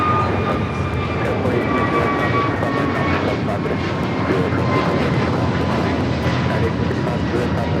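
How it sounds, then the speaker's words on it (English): Airbus A321neo accelerating down runway 25R at Los Angeles LAX for takeoff, a loud steady engine roar lasting throughout with faint higher whine, while radio voices talk over it. "A321neo now rolling down at 25 right."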